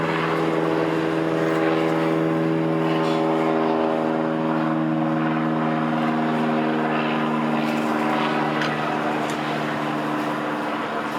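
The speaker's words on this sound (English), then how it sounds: "I'm going to hold for a moment till this little airplane flies over here." A small propeller airplane flies overhead, its steady droning engine hum holding loud and constant for about eleven seconds, with no one talking.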